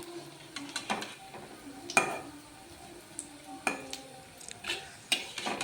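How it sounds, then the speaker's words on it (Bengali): Coriander leaf pakoras are flipped in hot oil in a pan, with a series of sharp metal clinks and scrapes from the turning utensil over a faint, quiet sizzle. "দেখো পকোড়াগুলো কিন্তু আমার এক পিট ভাজা হয়ে গেছে আমি এবার উল্টে আরও এক পিট ভেজে নেব"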